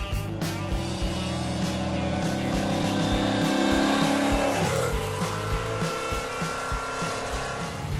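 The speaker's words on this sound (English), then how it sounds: "I'm gonna floor it third" Fuel-injected Chevrolet Impala pulling hard at full throttle in third gear, a loud continuous engine roar climbing steadily with a brief dip and shift near the middle before resuming, close and dominant.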